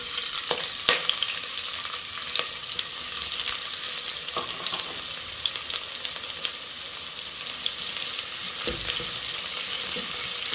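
Chopped onion fries in hot oil with cinnamon and cloves for a vegetable pulao, giving a continuous crackling sizzle with occasional stirring clatters and scrapes, close and fairly loud throughout.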